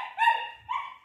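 A dog gives two quick, close barks, the first longer and higher, the second short, with no talk over them.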